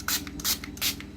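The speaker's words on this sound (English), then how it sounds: "let's do setting spray now" Makeup setting spray hisses in three quick, close bursts over a steady low background hum.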